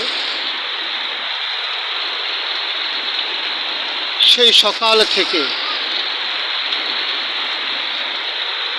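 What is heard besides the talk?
heavy rain falling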